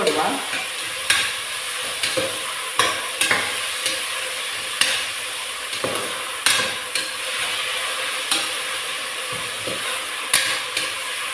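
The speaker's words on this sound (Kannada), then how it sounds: "ಜಿಂಜರ್ ಗಾರ್ಲಿಕ್ ಪೇಸ್ಟ್ ಹಾಕ್ತೇನೆ ಈಗ ಒಳ್ಳೆ ಮಿಕ್ಸ್" Ginger garlic paste stirred into a hot frying pan for mutton gravy gives a loud, steady sizzle with repeated sharp spoon scrapes and taps against the pan.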